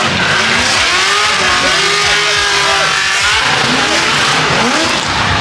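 A 1000HP BMW drift car at a Formula Drift event, its engine roaring loudly and continuously at high revs, with tire noise and further engine sounds from the track layered underneath.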